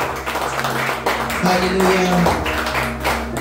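A church congregation claps in praise during a worship service, brisk rapid applause spreading through the room under a sustained musical tone, while a voice calls out.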